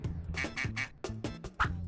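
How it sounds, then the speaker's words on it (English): A duck gives a run of rapid nasal quacks in uneven clusters, loud and close, with no talking over them. "It's a duck."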